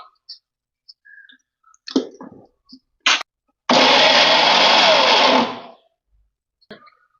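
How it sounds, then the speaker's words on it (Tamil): A mixer grinder whirs loudly in one steady burst of about a second and a half, grinding chutney with chillies and salt. Scattered clicks and handling knocks come before it, and a few faint taps follow. "அதனால இதை அரைச்சி எடுத்துட்டு வந்துடுறேன்"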